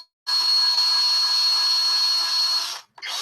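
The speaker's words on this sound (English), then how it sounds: "Yeah, this drill bit is not cutting anymore." A power drill with a dulling bit bores a channel into a workpiece, a steady high-pitched whine running loud and continuous for about two and a half seconds, then cutting off briefly before starting again.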